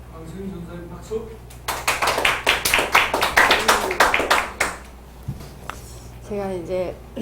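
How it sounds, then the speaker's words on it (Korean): A small group claps for several seconds in a church class setting, a run of distinct near hand claps that rises then fades, with talking before and after. "강수인 전사님 박수"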